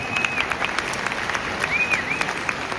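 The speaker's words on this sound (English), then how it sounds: "How about you guys give Applejack a round of applause?" Audience applause at a horsemanship clinic at Road to the Horse 2026, a steady wash of clapping from a sizable crowd with a few whistles over it.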